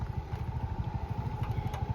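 A fallen scooter's small engine idles on close by with a fast, even putter and a faint steady whine, and no voices over it.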